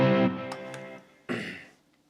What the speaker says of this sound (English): Let's go over to the crunchy side of it and try to dial in something.